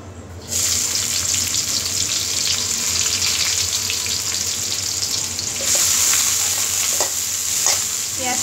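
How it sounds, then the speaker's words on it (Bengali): Chopped onions hit hot oil in a kadai and fry with a loud, steady sizzle, punctuated by occasional stirring scrapes toward the end. "পেঁয়াজটাকে একটু ভেজে নেব ভালোভাবে"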